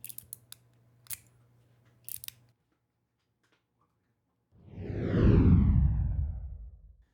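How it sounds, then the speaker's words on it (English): Magnets inside an Artillery fidget toy shift and ripple, giving a few faint clicks and then a brief rushing, swooshing rattle that swells and fades, close and with no talking. "And there's this little ripple that runs through it. And that's the noise. That's these magnets just kind of responding."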